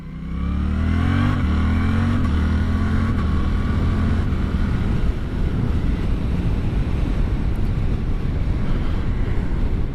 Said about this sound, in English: we're going to try and have a little bit of an opportunity here to open these bikes up. Alright, first gear